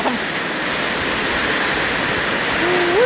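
Heavy rain pours while floodwater gushes around a hut, a dense, constant rushing roar that fills the scene, with a brief voice at the start and end.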